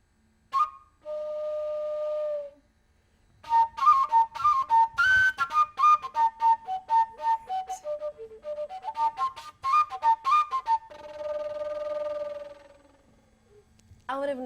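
An iqilongo pipe flute plays a lively, breathy melody of short whistling notes, with a couple of longer held tones at the start and near the end.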